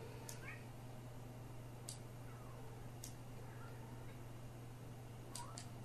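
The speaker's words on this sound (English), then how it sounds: "Your cats are going apeshit again." Cats meow and yowl excitedly in the background of a room, several short, faint calls scattered across a steady low electrical hum, with no other sounds standing out.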